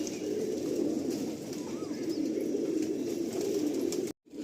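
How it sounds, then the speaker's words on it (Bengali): Pigeons coo steadily and close in a crowded loft of over seven hundred birds, the low throaty murmur continuous until it cuts off abruptly near the end. "আন্ধ্রা পায়রা রুপি আলাদা হয়, মানে দেখেই শান্তি এই পায়রা।"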